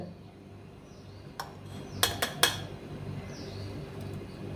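A spoon gives a few sharp metallic clinks against a pan while vegetables are mixed with cumin, turmeric and chili powder: one tap, then a quick cluster of three, over a quiet background.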